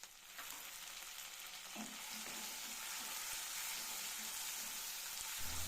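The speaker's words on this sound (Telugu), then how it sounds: "ఈ ఆనియన్ కూడా మగ్గే వరకు ఫ్రై చేసుకోవాలి" Onion and tomato frying in a pan for a lemon rasam, a faint, even hiss of sizzling oil that holds steady, with a few soft stirring knocks and no voices.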